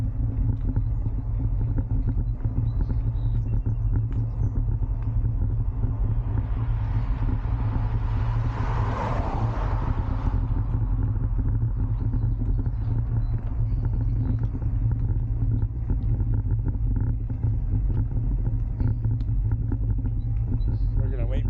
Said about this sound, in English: Traffic for a second, then we're going to cross the road